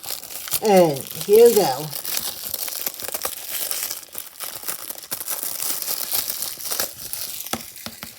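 Plastic shrink wrap crinkles and tears as it is peeled off a Blu-ray case, close and brisk, with a short spoken phrase over the crackling and quieter rustling after.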